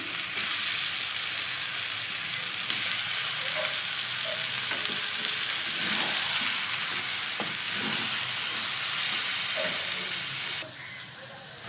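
Chicken pieces sizzle and fry steadily in a spiced masala, a dense continuous hiss with occasional stirring scrapes, close and loud throughout before easing slightly at the end.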